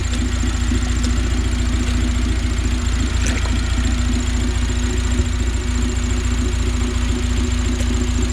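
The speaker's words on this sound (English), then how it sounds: "We have the fan running currently, just so we don't overheat this bad boy." A K-swapped Honda EF hatch engine idles steadily with its cooling fan running while the cooling system is bled, a constant close drone with a fan whir and occasional faint clicks.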